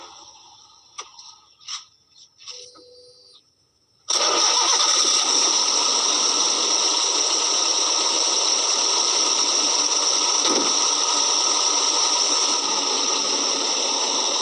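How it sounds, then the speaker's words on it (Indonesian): A few faint clicks and rattles, then a Daihatsu Gran Max's engine with an overheating fault cranks and catches, settling into a loud, steady idle that runs on without a break. "kita hidupkan mesin sampai jarum dari temperatur itu sampai di tengah."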